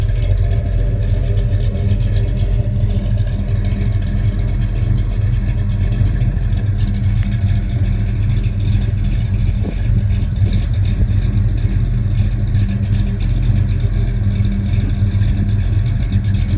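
A 1972 Dodge Charger with a 5.9 Magnum V8 and five-speed manual runs steadily through its exhaust outdoors, a deep, continuous rumble with small rises in revs over light wind noise.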